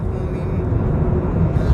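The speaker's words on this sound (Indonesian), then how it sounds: "Mobil kenceng banget." A fast car passes on a toll road, a steady loud broadband rush and rumble heard from close by, with no talking.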